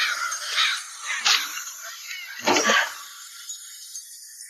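A crow caws three times, harsh and raspy, spaced apart over a quiet outdoor background, the crow perched in a tree.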